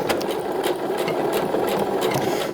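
A sewing machine runs steadily while stitching a zipper onto a pair of shorts. The motor hums and the needle chatters rapidly and continuously, close by, with no voices.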